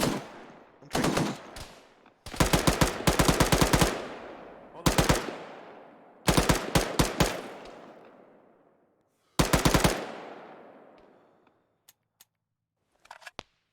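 Bursts of automatic rifle fire from a military video game, several loud rapid volleys separated by short pauses, with a few faint clicks near the end and no talk over them.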